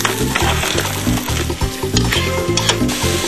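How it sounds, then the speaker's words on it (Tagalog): Spices sautéing in a hot pan for a Filipino crab rice porridge, a steady close sizzle with rhythmic stirring scrapes throughout and no voices. "Igigisa ang mga rekado."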